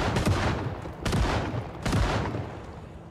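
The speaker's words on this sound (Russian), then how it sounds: "иногда, наверное, надо подрубать дробовик" Shotgun blasts in the zombie survival game Project Zomboid come as three loud, booming shots about a second apart, each decaying into a short rumble.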